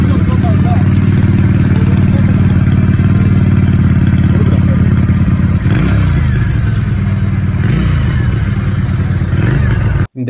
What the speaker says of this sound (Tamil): முக்கியமாக இந்த வண்டியோட எக்ஸாஸ்ட் நோட்டை கேளுங்க.